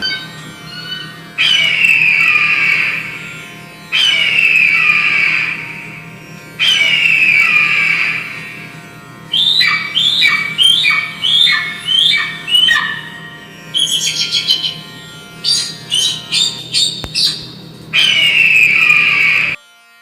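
Bird squawks voice a shadow-puppet eagle or bird, loud and close: long screeching calls repeat several times between rapid series of short, sharp chirps, over a low steady hum.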